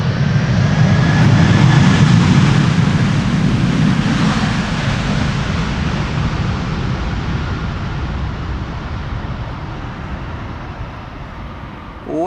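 A Delta Airlines airliner returning from Atlanta lands on Schiphol's Polderbaan runway in a crosswind, its thrust reversers producing a loud, broad roar that swells early and then slowly fades as the aircraft slows.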